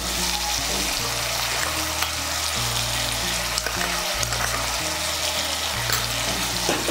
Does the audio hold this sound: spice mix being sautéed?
yes